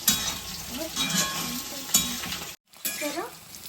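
Potato-like taro (dumpala) pieces with curry leaves fry in a new ceramic pan, giving a steady sizzle with scraping stirs and a brief drop-out partway through.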